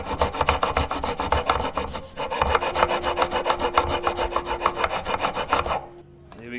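Metal files rasp back and forth over the frets of a homemade dulcimer guitar, leveling and beveling them in steady, close scraping strokes with a short pause partway through, then the filing stops near the end.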